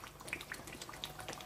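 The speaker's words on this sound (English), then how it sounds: "while frying the stew, I never added any ingredients" Nigerian stew frying in a pot, a quiet bubbling and sizzling with scattered small pops and spits, faint and close, no talking.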